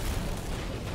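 A grenade and super ability detonating in Destiny 2 as an Arc Hunter, a dense, loud, sustained blast of explosive rumble filling the full second with no voices.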